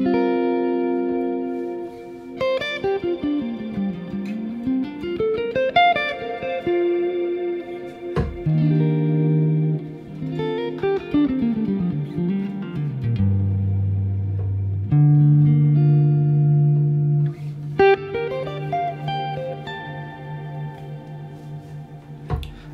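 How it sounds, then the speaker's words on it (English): Electric guitar notes through a Fractal Audio FM3 ring out with long, swelling reverb tails held by an expression pedal, sustaining into dense washes of sound, with sliding pitches and held drones. "I'm using an expression pedal down there to hold the reverb"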